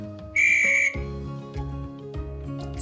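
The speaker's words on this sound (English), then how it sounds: "16 loud whistles." A loud, shrill whistle blast rings out briefly, followed by a series of low, bouncy tonal hoots and bleeps.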